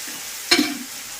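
Spices tempering in an iron kadai, one sudden close sizzle that bursts up and fades within a fraction of a second, no talk.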